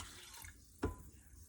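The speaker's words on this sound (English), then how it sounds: "I'm gonna add in just a little water." A small splash of water pours into a pot of rice cooking in beef broth, a brief close gush over a quiet kitchen background.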